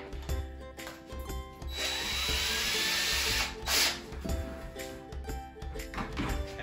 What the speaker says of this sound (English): I'm just gonna drill two holes on either side of this pipe.